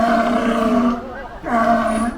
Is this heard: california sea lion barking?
yes